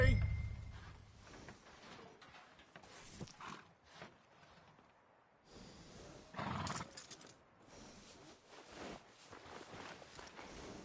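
A horse in the video game Red Dead Redemption II neighs and whinnies in a few loud bursts over a busy bed of game ambience and movement noise.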